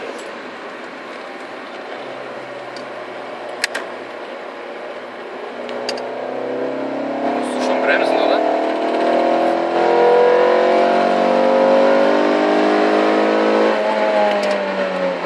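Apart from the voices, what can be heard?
Renault Clio RS engine revving, cam phaser sound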